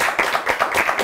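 Studio audience on a Spanish television show claps and applauds for a guest singer, a dense, steady burst of hand claps lasting about a second, close and fairly loud.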